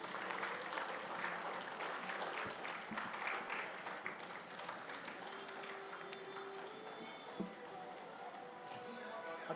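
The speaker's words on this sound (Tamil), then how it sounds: "உங்களுடைய பலத்த கைத்தட்டல்கள்." Audience clapping at a Chennai book-event stage, a dense, steady patter of many hands that runs the whole stretch at moderate level with a faint room murmur beneath.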